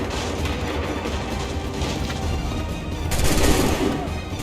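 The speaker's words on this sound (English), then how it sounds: "Hold fire! Open fire! Prepare yourself. Fire now!" A dense volley of video game gunfire crackles continuously, many overlapping shots forming a loud, rough barrage that swells near the end.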